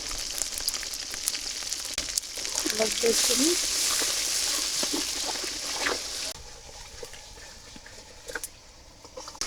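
A paste of ground ginger, garlic and cumin with salt fries in oil for a country chicken curry with new potatoes, hissing loudly and then easing off, with stirring scrapes and a voice heard in the middle.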